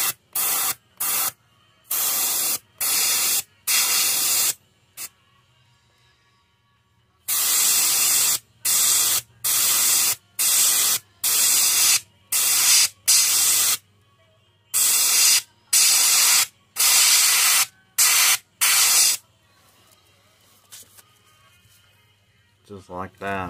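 Airbrush spraying silver paint through a stencil onto a perch-pattern fishing lure, repeated short hissing bursts about a second each with quiet gaps and a longer pause midway.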